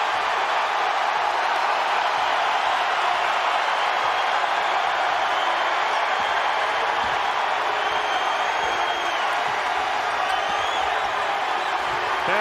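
Indiana State Sycamores home crowd at an NIT semifinal basketball game against Utah, a dense, constant roar filling the arena with scattered shouts, commentators talking over it throughout.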